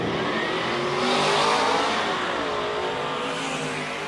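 A turbocharged Chevy pickup truck drag racing on a street strip roars loudly and continuously, its engine note climbing through hard acceleration with no speech.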